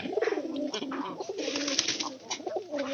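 Pigeons coo in a loft, several overlapping throaty, bubbling calls close by in uneven pulses, with no speech.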